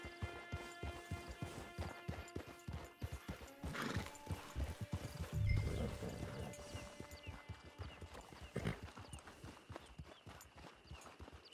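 Horse hooves clip-clop steadily in Red Dead Online, with a few neighs and whinnies; the trotting rhythm runs throughout, fairly close, with no talk over it.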